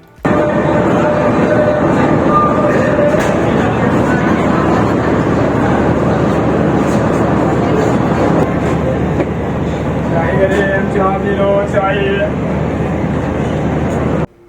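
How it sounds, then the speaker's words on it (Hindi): Pakistan Railways' 13 Up Awam Express passenger train pulling into Nawabshah station, running about 20 minutes late, makes a loud, steady rumble of wheels and carriages that fills the whole stretch, with a few brief tonal squeals near the end. "थर्टीन अप अवाम एक्सप्रेस तकरीबन 20 मिनट की ताख़ीर से नवाबशाह पहुंची"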